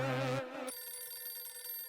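A redialled outgoing phone call produces a pulsing electronic ringback tone through the handset, starting after a short burst of voice and continuing steadily to the end in an Indian TV comedy scene.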